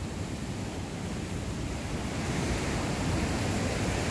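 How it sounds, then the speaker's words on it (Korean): Heavy ocean surf at Songjeong beach in Korea, a dense, steady roar of crashing waves close by, loud and unbroken, mixed with wind rush and no talking. "와, 파도가 장난 아닙니다"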